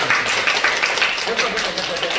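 An audience claps in a brief burst of scattered applause, with a voice talking over the clapping.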